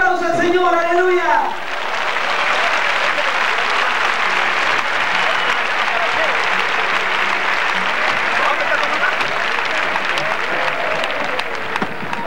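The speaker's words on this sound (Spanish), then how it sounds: "Le damos un fuerte aplauso al Señor" A stadium crowd at a 1998 evangelistic campaign in Santiago, Chile applauds loudly and continuously for the Lord, a broad roar of clapping lasting many seconds after a brief shout opens it.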